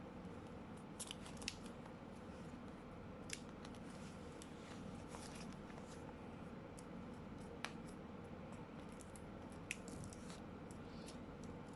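Scissors snip steadily through paper during a salt-painting craft session, with a series of crisp, faint cuts repeating at an even pace and no talking over them.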